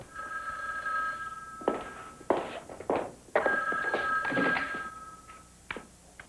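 A telephone rings in a quiet room, two long bell rings separated by a pause, with soft thumps and movement noises around them.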